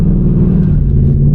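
A 2020 Ford Mustang GT launches hard in a 0-60 run, its engine roaring loud and close with a rising, rumbling rev over the whole stretch.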